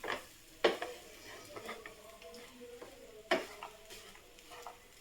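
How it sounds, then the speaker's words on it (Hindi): Vegetables being mixed in a pan for Kolkata-style veg roll filling, with soft stirring scrapes, a faint sizzle and a few sharp utensil clicks against the pan, close and quiet. "इन सबको हम अच्छे तरीके से मिक्स कर देंगे।"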